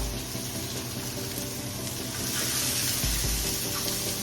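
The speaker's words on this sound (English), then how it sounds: "Let's go in and saute everything except the golden ray I'm adding in right now" Vegetables sautéing in a pan for a salt fish with eggs and dumplings meal, giving a steady close sizzle and hiss with a few faint clinks, no talking.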